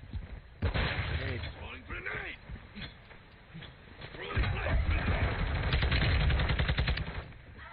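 Gunfire in a multiplayer shooter video game: bursts of shots and rapid machine-gun-like fire, loudest and densest in the second half, with players talking over the battle.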